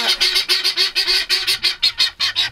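Guinea fowl on a homestead give a rapid run of harsh, honking calls, about a dozen loud pulses in quick rhythm, close by and with no talking.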